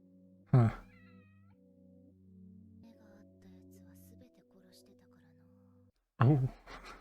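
A cat meows twice in the Chainsaw Man anime, one short cry near the start and another near the end, loud and close, with quiet background music and faint sounds in between.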